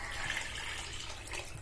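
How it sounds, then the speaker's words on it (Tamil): Rinse water from washing broiler chicken pours steadily into a chicken curry, a continuous splashing, gurgling flow heard close and fairly loud throughout. "ஸோ இப்போ இந்த தண்ணியை பூரா ஊற்றிக்கலாம்."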